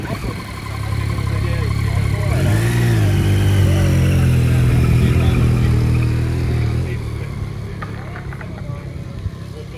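A motorcycle engine revs up and holds a loud, rising drone close by as a ride starts, then eases off toward the end, with people talking faintly underneath.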